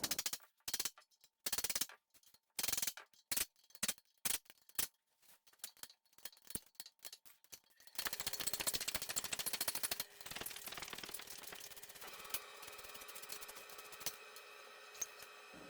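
Tools work on the bolts of a Cavalier Z24 subframe: sharp, irregular ratchet clicks and bursts come first, then a steadier mechanical rattling and whirring, all fairly quiet and close.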